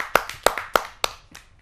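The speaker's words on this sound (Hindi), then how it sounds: "आप सबकी जोरदार तालियों से" A handful of sharp, separate hand claps ring out at a kavi sammelan poetry gathering, about six crisp strikes spaced unevenly over under two seconds, fairly close and with no voices.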